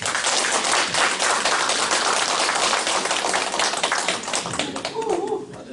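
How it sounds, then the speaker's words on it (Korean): An audience at a business lecture giving loud, sustained applause, a dense continuous rattle of many hands that thins slightly near the end, with a brief voice at the close. "자, 큰 박수로 맞이해 주세요"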